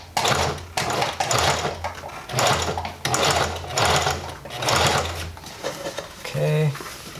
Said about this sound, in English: let's start our stitching